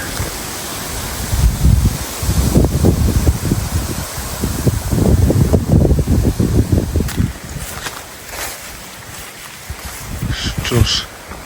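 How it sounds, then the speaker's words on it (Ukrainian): Wind gusting through an autumn Carpathian forest in rainy weather, a broad rushing roar that swells and eases over the first seven seconds, then thins out toward the end. "Ну, вже й тут вітер."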